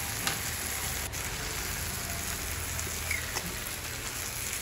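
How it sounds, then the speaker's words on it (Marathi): Cluster beans roast in a pan with salt, giving a soft, even sizzle and crackle throughout, low in level and with no talk. "व्यवस्थितपणे जरा भाजू द्यायची आहे गवारी"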